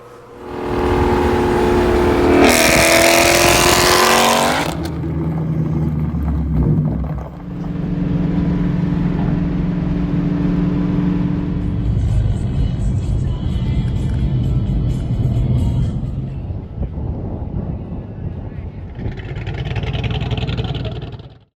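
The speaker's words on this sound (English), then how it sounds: "We put a Magnaflow Competition Series exhaust on it and a C&L resonator delete H-pipe," A 2017 Ford Mustang GT California Special fitted with a Magnaflow Competition Series exhaust and a C&L resonator-delete H-pipe, its V8 heard loud and close with several surges of revving and droning exhaust over about twenty seconds, broken by a short burst of noise.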